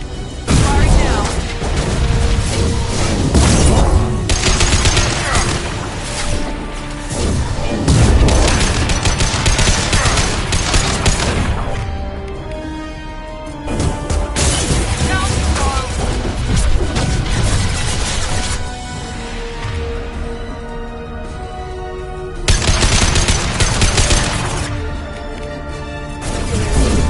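Sustained heavy gunfire and repeated booming explosions in a loud, dense barrage, with brief lulls, while voices shout over the din.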